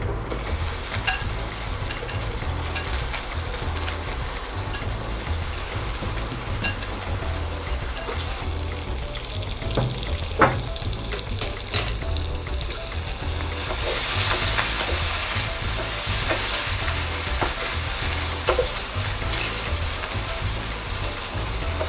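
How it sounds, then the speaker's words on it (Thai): Egg whites fry in hot oil for a Thai fried egg-white laab, crackling and sizzling steadily with occasional sharper pops and faint utensil clicks. "ใส่ไข่ขาวของเราลงไปเลยนะคะ"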